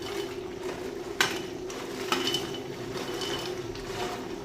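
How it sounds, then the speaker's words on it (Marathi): Soya chunks tipped into a hot pan for crispy soya chilli and stirred, with a steady low pan hum, a couple of sharp clinks of spoon on metal and scraping, stirring clatter close by. "आता यात सोयाबीन टाकून घेऊया."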